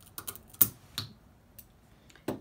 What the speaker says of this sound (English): This is just a regular wick trimmer. It's not particular for the wooden wick, but that's what I'm using. And I'm just going to cut it.